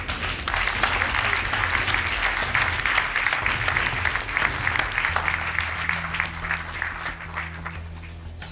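Studio audience applause on a Portuguese TV quiz show after a round ends, dense steady clapping across the whole stretch, with a low sustained music tone entering partway through.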